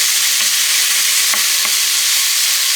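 Vegetables with thyme and bay leaf stirred in a pan, a loud continuous sizzle with a few soft scraping knocks of the spoon, close up and without talk.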